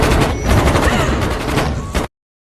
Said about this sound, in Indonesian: Setelah terjadi baku tembak yang kacau itu